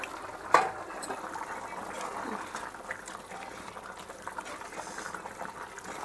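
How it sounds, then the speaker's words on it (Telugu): Country chicken curry simmering in a pot with a litre of water and coriander added, giving a faint, continuous low bubbling close by, with a soft knock near the start. "ఉడుకుతుంది ఫ్రెండ్స్ బాగా."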